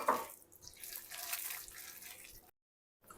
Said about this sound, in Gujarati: આપણે આમાં પાણીની જરૂર છે તો થોડું પાણી નાખું છું.